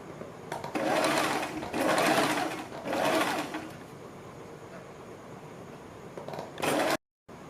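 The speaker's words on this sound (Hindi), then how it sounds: "तब इसके ऊपर सिलाई लगाते हैं बिल्कुल इस लाइन के ऊपर" A sewing machine stitches a folded kurti strip in several bursts of rapid whirring, each lasting about a second with short pauses between, close and steady. A final brief run comes just before a sudden cut.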